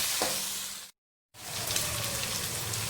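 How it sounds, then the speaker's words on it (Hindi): Small chicken pieces sizzle steadily in a hot pan for a Chinese-style biryani, with a constant bright crackle broken only by a brief silent gap. "और इसके साथ इसको मैं फ्राई करूँगी। इसका थोड़ा सा कलर चेंज हो जाए।"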